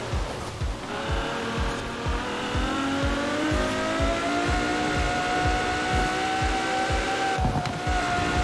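A car engine in the racing game Forza Horizon 4 drones continuously, with a Ferrari or Lamborghini driven at night and the pitch slowly rising as it accelerates, loud and close with rhythmic thumps underneath.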